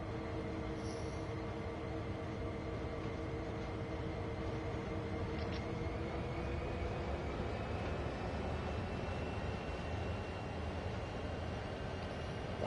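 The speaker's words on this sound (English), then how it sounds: "That's a hell of a long train." A long freight train with a single locomotive rolls past in the railway simulator Train Sim World 4, a steady, continuous rumble of wagons with a faint high squeal partway through, sustained at even loudness throughout.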